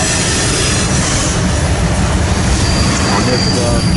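An SD70MAC locomotive hauls an eastbound empty coal train in Ashland, Nebraska, loud and close, with a continuous rumble of rolling cars, rattling wheels and faint squealing throughout.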